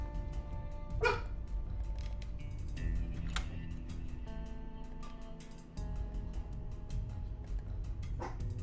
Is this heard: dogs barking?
yes